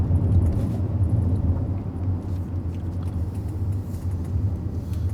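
Steady low road rumble inside a Mercedes GLS 400d AMG diesel SUV being driven dynamically, a constant cabin drone with tyre and engine noise and no speech.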